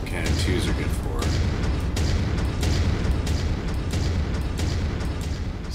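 AC/2 autocannons in MechWarrior 5 fire in a rapid, steady stream of thumping shots with booming impacts, loud and continuous, under a running game soundscape.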